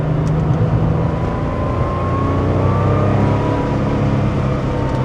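A 1985 Porsche 911 Carrera's engine drones steadily while the car drives along, loud and continuous from inside the cabin with a gentle rising whine, and there is no talking.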